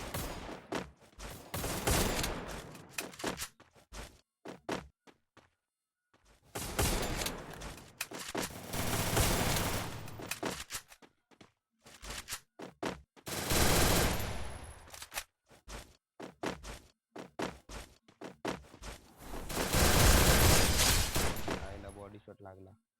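First-person shooter gunfire crackles in several rapid bursts separated by short silences, loud and sharp, with a voice talking between the volleys.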